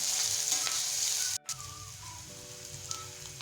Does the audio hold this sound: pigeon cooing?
no